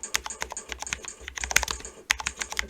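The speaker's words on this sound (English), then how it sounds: "The microphone is going to be pointed at the keyboard so you can hear what it sounds like." Typing on a Cooler Master SK630 mechanical keyboard, with a close microphone picking up rapid, irregular key clicks and clacks in bursts, loud and clear with no talking.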